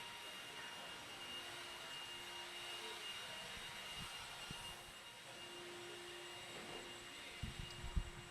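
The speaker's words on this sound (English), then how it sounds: "Rylan, why don't you grab that number 1 blower and blow that?" A blower clears dirt off an indoor 1/10th-scale off-road RC race track, giving a steady, faint rushing drone that holds throughout with a few soft knocks near the end.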